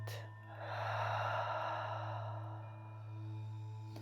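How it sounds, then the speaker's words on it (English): A slow, deep breath drawn in and let out during a calming face massage session, heard as a long soft airy rush that swells and then fades, alone over a steady low hum. "Take a deep breath in and out."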